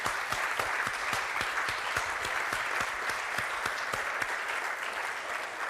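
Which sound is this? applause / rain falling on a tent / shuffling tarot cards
applause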